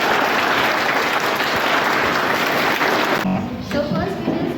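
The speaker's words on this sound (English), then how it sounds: "We all will clap for them once" An audience at a school singing competition claps together in sustained, dense applause that fills most of the moment, then cuts off abruptly, leaving quieter room sound and a faint voice afterward.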